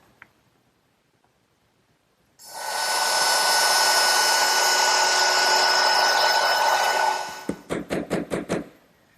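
A router cutting a dado in wood for a Shaker woodbox starts after a quiet moment, roars loudly and steadily for about five seconds, then cuts off into a handful of quick knocking thuds.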